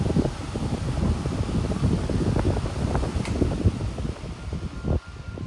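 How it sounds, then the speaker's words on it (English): A 14-inch Air King high velocity fan coasting down after being switched off, a steady whooshing, fluttering airflow hum that holds fairly even and dips slightly near the end, with no voices. "we're going to spin it down and enjoy the long spin down time"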